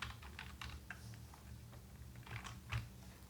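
Quiet typing on a computer keyboard: a run of light, irregular key clicks with a slightly heavier tap near the end, and no one speaking.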